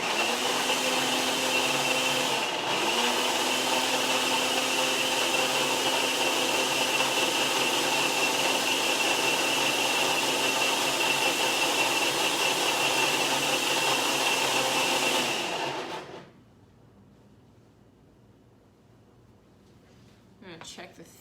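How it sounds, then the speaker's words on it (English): A blender whirs loudly and steadily through a curried chickpea mixture for about sixteen seconds, then cuts off abruptly, leaving near-quiet room tone. "I'm gonna bring this over here and actually blend it"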